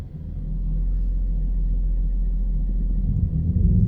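A Mercedes-Benz engine rumbles low and steady at close range while the car reverses, with the deep drone holding constant throughout.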